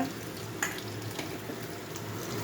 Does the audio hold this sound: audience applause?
no